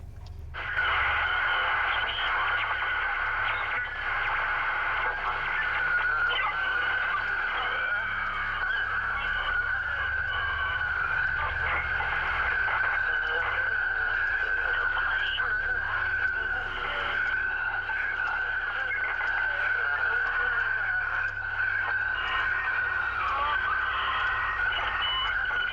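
A crystal radio in the Fatal Frame video game gives off a steady, even hiss of white noise that continues unbroken for nearly half a minute, with a faint low rumble underneath.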